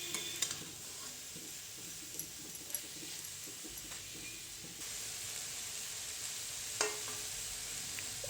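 Mushrooms fry in a pan with a quiet, steady sizzle, broken by occasional soft scrapes and clicks as they are stirred, all faint and close with no talking.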